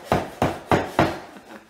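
A hammer strikes four times at a steady rhythm, close and fairly loud with short wooden knocks, while foam wargaming scenery is being made, with no talking.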